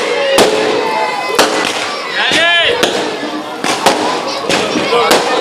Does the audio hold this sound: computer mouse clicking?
no